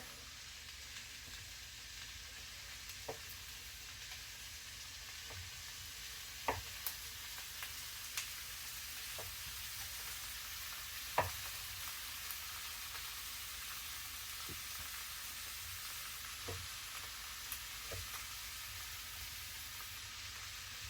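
Ribeye steak for fajitas frying in a pan, a faint continuous sizzle with scattered small pops and crackles, heard alone with no voices.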